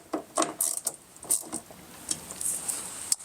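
Bolts on a Rokblokz Step Back mud flap for a 2010-2018 Ram 1500/2500/3500 pickup are tightened at the rear, giving a series of close metallic ratcheting clicks and taps in irregular bursts, with no talk.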